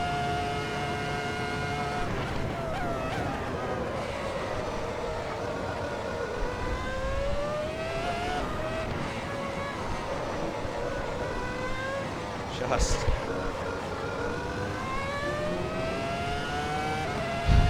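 Ferrari F2004 Formula 1 V10 engine in the Assetto Corsa racing game, a continuous high-pitched scream rising and falling through gear changes and revs, loud and steady throughout with no talk.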